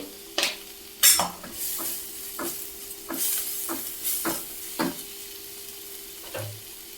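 A tempering sizzles in a pan while pav bhaji is cooked, with soft frying hiss under a series of distinct spoon scrapes and stirring clinks against the pan, close and moderately loud, without speech.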